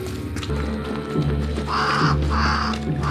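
Crows caw in the video game Banishers: Ghosts of New Eden, three or four harsh calls in quick succession over a low ambient game background, with no talking.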